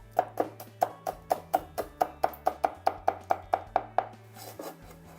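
A knife slicing whole garlic cloves and a cheongyang chili pepper on a cutting board, about eighteen crisp, evenly spaced chops in quick succession, close and clear with no talking.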